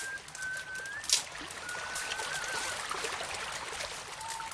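Babbling stream trickles softly and continuously through a forest at dusk, with thin whistled notes drifting over the water and a brief sharp chirp in between.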